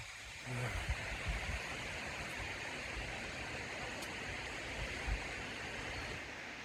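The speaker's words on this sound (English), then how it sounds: "There's the top of the waterfall now." A waterfall on the Tuckerman trail up Mount Washington gives a steady, even rush of falling water that sounds fairly faint and distant, with an occasional soft knock nearby.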